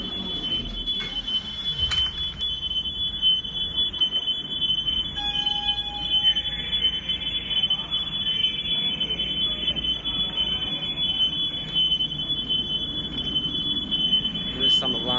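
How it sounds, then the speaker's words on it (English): A steady high electronic alarm tone sounds continuously in an underground car park beneath a music venue, ringing throughout amid reverberant room noise, with occasional voices and movement in the background. "There's some alarm going on here."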